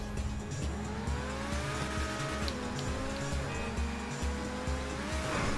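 A car drifts in a video game during the Drug Wars update, its engine roaring loudly and steadily while a high tire squeal rises and wavers over it, with shifting gear tones underneath.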